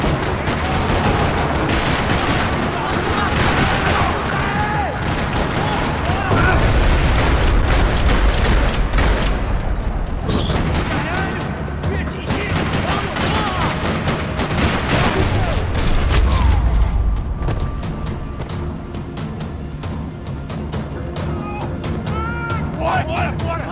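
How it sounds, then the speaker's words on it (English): Constant rattling gunfire and booming shots fill a parking lot firefight in the video game Max Payne 3, dense and loud throughout with little let-up. "Another parking lot rattling with gunfire."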